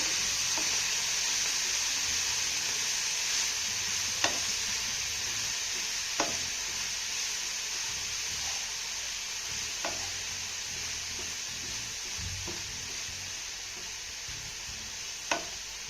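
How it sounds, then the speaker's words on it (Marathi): Chopped coriander sautéing in spice masala in a pan for a coriander vadi, giving a constant, close sizzle with a faint ticking of the spatula against the pan every couple of seconds. "कोथंबीर देखील आपल्याला एक ते दोन मिनटं ह्या मसाल्यामध्ये छान अशी परतून घ्यायची आहे"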